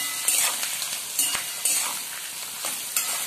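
Soyabean chunks fry in a pan as they are stirred, giving a steady, close sizzle with soft scraping strokes recurring every second or so, with no voices over it.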